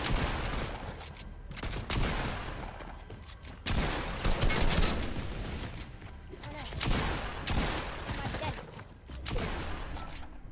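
Turret gunfire in Fortnite: rapid, loud bursts of automatic fire repeat in clusters over several seconds, mixed with game clatter and noise.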